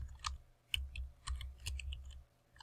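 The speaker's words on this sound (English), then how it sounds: "let's type a topic" Quiet computer keyboard typing, a handful of soft irregular key clicks spaced across a few seconds, close but faint with no speech.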